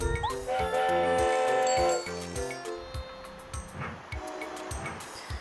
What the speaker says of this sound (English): And I'm gonna take the train back to Toad Town